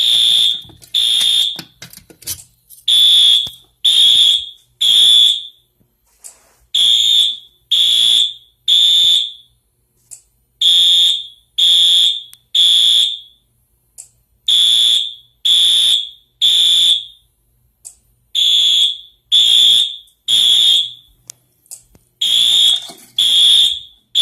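A loud, piercing ESL541NB smoke alarm beeps during a system test in repeated groups of three shrill tones, separated by short pauses, continuing steadily throughout.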